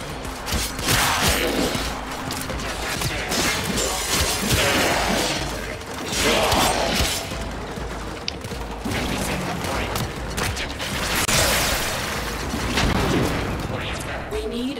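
An excavator running at a dig site on Venus in the Warframe video game, a dense continuous mechanical rumble mixed with bursts of gunfire and crashes, loud and busy throughout, with game voices talking over it.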